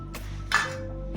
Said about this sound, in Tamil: இப்போ நம்ம ஒரு பிளேட் எடுத்துக்கிட்டு பொட்டேட்டோவை கொட்ட போகிறோம்.